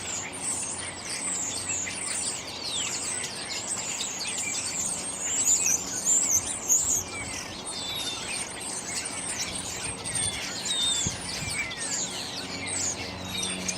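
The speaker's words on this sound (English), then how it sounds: "Clearly something attracting these starlings. It's the noisiest bird song I've heard all day." A dense chorus of chattering, whistling starlings calls continuously, many overlapping chirps and squeaks forming a noisy, busy din with no pauses.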